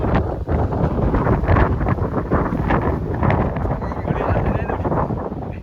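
Strong wind blasts across a hilltop at Parunthumpara, roaring loudly against the microphone in a continuous buffeting rush that swells and eases in gusts throughout.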